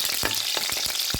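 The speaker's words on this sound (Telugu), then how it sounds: "కొంచెం వేగనిచ్చుకోవాలి." Small chopped pieces fry in a hot pan with a steady close sizzle, broken by a few soft stirring scrapes.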